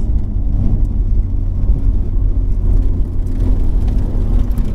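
Ferrari 488 on a race track, its engine a steady, dense low rumble and whir heard from inside the car, holding continuously without distinct revving peaks.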